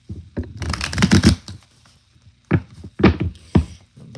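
A deck of cards is shuffled close up in rapid riffling bursts, followed by several separate sharp card taps or snaps.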